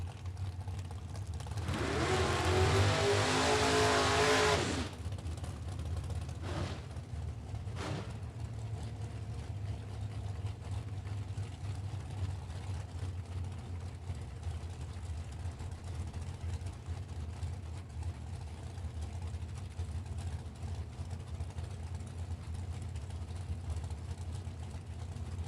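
At a Super Pro drag racing event, a loud engine roar swells for about three seconds early on, then fades to a low background rumble with a couple of brief distant bursts.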